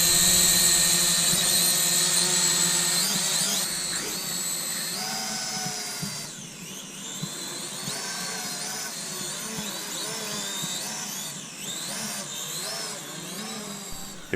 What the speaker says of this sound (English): It's a very agile and fast drone.